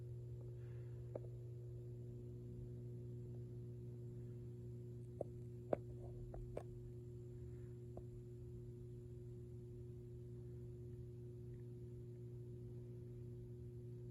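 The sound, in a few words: ballast of 100W mercury vapor light bulb humming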